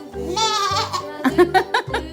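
A voice imitates a sheep's bleat with a few wavering, drawn-out 'baa' calls followed by shorter choppy bleats, close and fairly loud, with no other talk.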